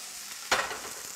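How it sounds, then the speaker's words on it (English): Onions for a veggie burrito caramelize in an oiled pan, a soft steady sizzle with one sharper burst of frying as they are stirred. "we just wanna let the onions caramelize just a little bit"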